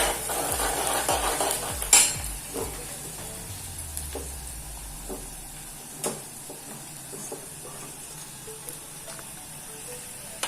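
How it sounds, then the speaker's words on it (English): Poha ingredients such as mustard or cumin seeds frying and being stirred in a pan, with a soft sizzle, scraping clicks from stirring and a louder knock near two seconds, fairly quiet throughout with no talk. "Fry it nicely."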